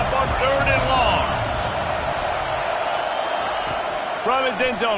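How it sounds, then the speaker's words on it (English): A football stadium crowd roars steadily on third and long, a loud, sustained wash of noise with occasional whoops, and a voice calls over it throughout. "Here comes the crowd trying to make it tough on 3rd and long"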